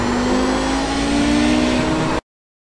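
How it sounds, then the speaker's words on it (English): High-revving Audi 90 GTO race car engine in iRacing, a loud sustained whine holding near the rev limiter for about two seconds before cutting off abruptly. "I'm just about at the rev limiter"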